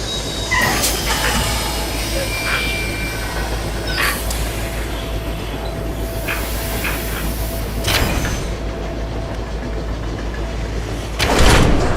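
A train runs in the Oddworld Soulstorm video game, a continuous rumbling rattle with clanks and hissing bursts, while a voice speaks over parts of it.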